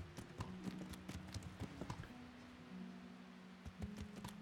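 Horse hooves clip-clop in the medieval role-playing game Kingdom Come: Deliverance, a steady, moderately close rhythm of sharp taps over a low sustained background hum.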